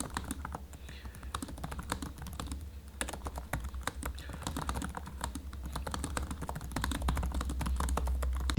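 Typing on an Illegear Arté laptop keyboard produces rapid, close, even clicks and soft taps in a continuous rhythm, with a voice speaking over them.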